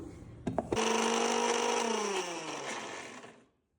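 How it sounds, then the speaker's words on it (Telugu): A mixer grinder grinding cooled cooked amaranth leaves into paste whirs up with a loud, steady electric whine for about three seconds, then winds down into silence after a couple of clicks. "మగ్గిచ్చిన తోటకూరను ఫస్ట్ చల్లారిన తర్వాత మిక్సీకి వేస్తున్నాం"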